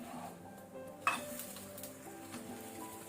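A bread pancake fries in butter in a pan with a quiet, continuous sizzle, broken by one sharp clink of a utensil on the pan and light scraping, fairly faint throughout.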